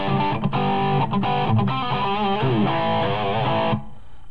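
High-gain electric guitar through a BIAS Copperhead amp model, a Marshall 800-style tone, playing a loud, continuous distorted phrase with bends and vibrato alone before stopping abruptly.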